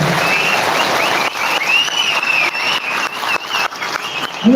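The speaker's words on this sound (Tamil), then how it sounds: "ஜெயராமன் வாசித்த அரசியல் தீர்மானத்தை அனைவரும் கரகோஷம் எழுப்பி ஆதரவு" A crowd at a PMK party general council meeting claps loudly and continuously in support of a political resolution, while a thin whistling tone, like PA feedback, wavers over the applause.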